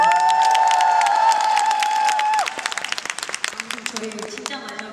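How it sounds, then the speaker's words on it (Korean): Concert audience greets a band's drummer with a loud cheer and sustained shout, then breaks into scattered, sharp clapping that thins out near the end, with some voices in the mix. "박수 한번."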